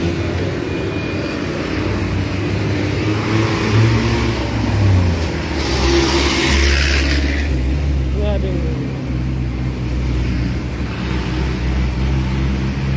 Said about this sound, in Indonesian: Tapi kalau masalah kendaraan nggak terlalu sepi sih, rame sih itu.